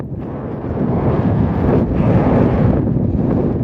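Strong wind near the Dead Sea in Jordan buffets the microphone with a loud, low, continuous rumble and roar that surges slightly throughout.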